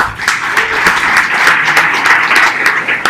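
An auditorium audience applauds steadily at a tech conference in Medellín, a dense, even wash of many hands clapping for about three seconds with no voices over it.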